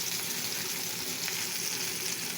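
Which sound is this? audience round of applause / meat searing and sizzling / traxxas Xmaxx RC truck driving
meat searing and sizzling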